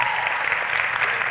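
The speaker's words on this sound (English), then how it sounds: "Round of applause for her." Brief burst of audience applause as a performer is called onstage at a comedy show, dense and even clapping from a crowd, continuous and fairly loud for its short length.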